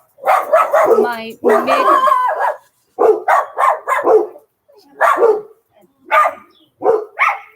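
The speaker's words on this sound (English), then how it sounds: "the dogs obviously want to be in the video" Several dogs bark in repeated, loud, close bursts, mixed in with a person talking.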